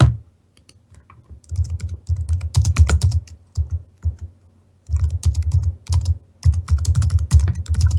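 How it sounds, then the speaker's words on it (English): Fast computer keyboard typing in bursts with short pauses, the keys clattering loudly and close. "I'm furiously typing away"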